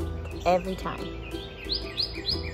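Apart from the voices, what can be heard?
birds chirping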